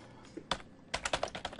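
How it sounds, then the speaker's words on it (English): Quick bursts of keystrokes on a computer keyboard as a web address is typed in an office, close and crisp, in uneven clusters with short pauses and no voices. "let's see if we have to type the whole thing in"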